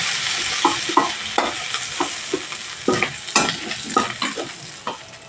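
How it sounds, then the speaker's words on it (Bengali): Shrimp fry in a pan in a home kitchen using mustard oil, with a steady sizzle broken by repeated scraping stirs of a spatula, close up and without talking. "দু তিন মিনিট ধরে ভাজলে তিন মিনিট ভালো হয়ে যাবে চিংড়ি মাছটা পারফেক্ট ভাজা হয়ে গেছে"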